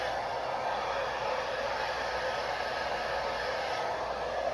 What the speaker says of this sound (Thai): ไฟกลางๆยกโคนค่ะ